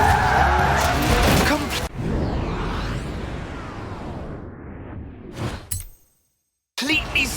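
A Lotus Elise slides sideways in Forza Horizon 4 with a rising tyre squeal and skid under engine noise, cut by abrupt breaks and a brief silence near the end.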